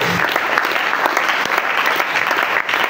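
A congregation at a French-language prayer service claps and cheers in praise of Jesus, a dense, loud wash of applause filling the whole moment.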